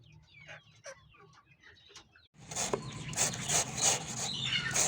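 Native Paraokan chickens on a free-range farm cluck and call close by, with soft scattered calls first and then a louder burst of overlapping clucks.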